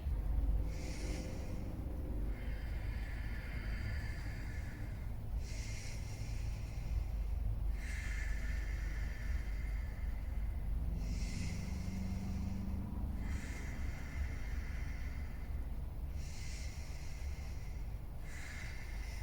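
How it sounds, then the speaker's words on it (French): Ujjayi breathing during a vinyasa yoga session, slow audible ocean-like breaths drawn in and out in a steady rhythm, close and clear over a low background hum, with no talk. "On respire 4 respirations Ujjayi."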